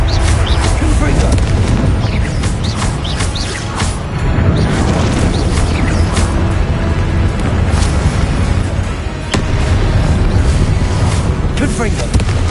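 Confringo blasting spell explosions from the video game Hogwarts Legacy, loud booming blasts over a dense, continuous game soundscape, with a voice heard speaking through it.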